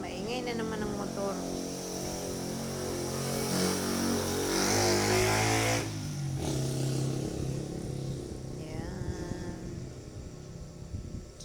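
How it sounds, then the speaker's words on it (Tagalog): A motorcycle engine drones and revs by a roadside while ampalaya is being sautéed, a steady mid-pitched rumble that swells and fades, mixed with nearby talk. "Maingay na naman ang motor."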